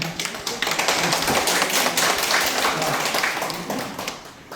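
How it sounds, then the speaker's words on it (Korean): Loud, dense applause from an audience in a National Assembly meeting room, sustained and even for several seconds before tapering slightly at the end. "박수만 크게 한번 쳐주시면 됩니다"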